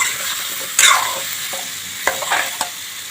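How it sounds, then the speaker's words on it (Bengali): Potatoes frying with salt and turmeric in a pan, a steady close sizzle with a few sharp stirring scrapes and clinks breaking through, no voices. "এখন ভালো করে ভেজে নেব।"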